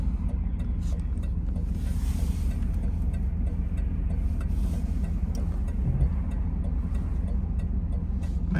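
Cars passing on a road, heard as a steady low rumble of traffic with some wind noise, fairly distant and continuous, with no talking.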